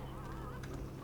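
Chickens at a coop in the video game Dungeon Keeper 2 give a quick burst of honking, clucking fowl calls, close and fairly quiet, lasting about a second over a low background rumble.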